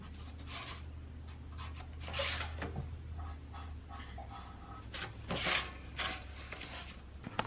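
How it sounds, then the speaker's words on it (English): Marker tracing a rough cutting line on a plate for a custom kill switch mount, producing faint soft scratching strokes over low background hum. "So Ty traced out the rough edge we need."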